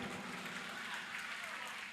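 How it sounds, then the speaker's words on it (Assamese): Faint, steady applause from an audience at an outdoor Bihu function, thanking the organizing committee, heard from a distance as a soft continuous wash of clapping for about two seconds. "এই ল'ৰাক উদ্যোক্তা মণ্ডলীৰ কাৰণে এটা হাত চাপৰি দিয়ক"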